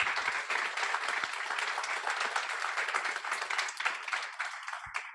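Steady applause from an audience at a service-dog graduation ceremony honoring puppy raisers, dense clapping from many hands filling the room for several seconds and easing slightly near the end.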